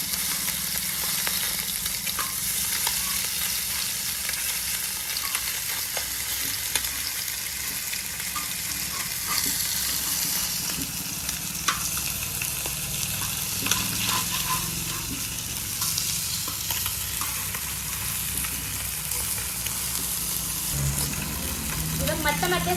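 Fish sizzles in oil on a tava, a dense, close frying crackle that runs throughout with occasional scrapes and stirring knocks.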